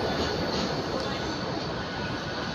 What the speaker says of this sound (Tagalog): Train din sa kabila